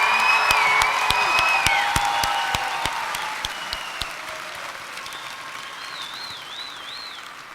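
University commencement audience applauding and cheering for graduates, a broad continuous wash of clapping with whistles and tonal squeals on top, gradually thinning toward the end.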